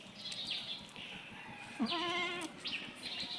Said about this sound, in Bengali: চোদ্দ পনেরোটা ছাগল সম্পূর্ণ দেশি এবং ক্রস জাতের ছাগল